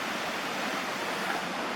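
River flowing beside a campsite, a steady, close rush of water with no pauses and no one talking.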